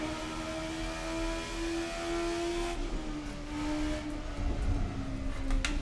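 The Oldbac Kalana, Estonia's fastest racecar, revs hard in second gear through a corner at Pärnu in Assetto Corsa. Its steady, loud engine drone rises and shifts in pitch partway through, heard alone without talk.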